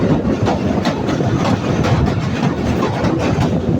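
The Tungipara Express rushes straight through a station, filling the space with a loud, close, rhythmic clickety-clack over a heavy rumbling base.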